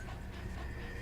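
The dog companion in the video game Metal Gear Solid V: The Phantom Pain pants softly and steadily for about a second, a faint breathy rasp under a noisy game background.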